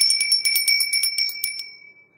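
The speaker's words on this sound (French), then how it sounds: "Tu aimes écouter ma cloche?" A hand bell rings in a quick series of about eight bright, metallic strikes with a sustained ringing tone that slowly fades. It is heard alone and close, with no talking.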